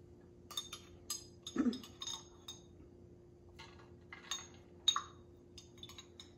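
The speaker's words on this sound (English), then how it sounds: "And then we're gonna throw some cherries." Cherries dropped into a cocktail glass during drink-making, a scattering of soft, close clinks and light taps spread across a quiet stretch, with a faint steady hum beneath and no talking.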